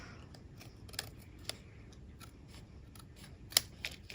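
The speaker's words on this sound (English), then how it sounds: "So we can cut off this extra layer here." Scissors snip through excess wrapping paper while trimming a roll-up gift box, a few quiet sparse cuts and light paper rustles at close range with no talking.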